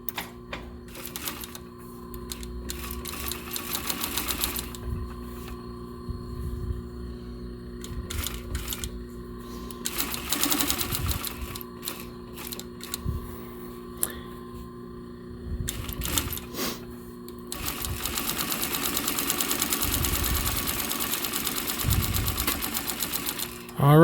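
A sewing machine stitches a leather pouch in rapid mechanical bursts, with pauses between runs. Thread is pulled and handled nearby, and a person talks between stretches of stitching.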